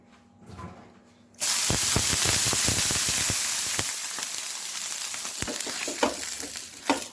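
Water splashed onto a hot greased tawa for dosa, starting with a sudden loud hiss that settles into a steady sizzle with crackling pops, close and alone.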